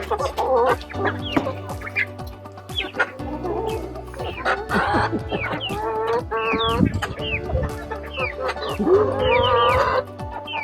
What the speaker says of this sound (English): Feed the chicken.